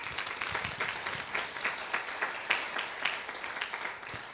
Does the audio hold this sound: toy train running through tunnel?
no